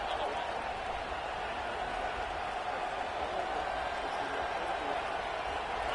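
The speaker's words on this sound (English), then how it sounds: "This crowd ready to make its presence known." Stadium crowd at an American college football game between Indiana and Arkansas, a broad, constant roar of many voices filling the air at a steady level, with commentary heard over it.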